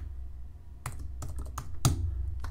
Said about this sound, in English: Type it in, hit enter.